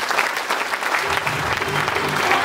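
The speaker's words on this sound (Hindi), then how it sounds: "तालियां होनी चाहिए आपके लिए।" An indoor audience claps in steady applause at a motivational business seminar, a dense even patter lasting a couple of seconds without a break.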